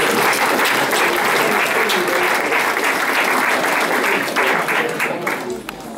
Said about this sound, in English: round of applause for parents.